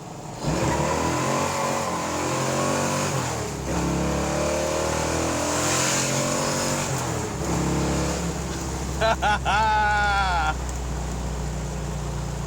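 A 1963 Ford Galaxie 500 with a stroked engine accelerates through the gears, its loud, steady engine note climbing and dropping with each shift, close by, with a brief high whine near the end.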